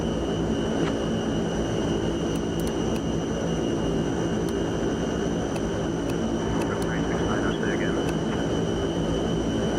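Fokker F27 propeller airliner engines drone steadily in Microsoft Flight Simulator 2024, a loud, constant hum with tonal whine throughout, with faint clicks and a brief voice-like blip in the background.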